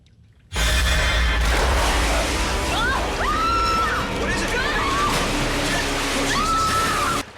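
A large volume of water sloshes and churns in a horror film scene, a continuous loud wash with faint cries and voices mixed in.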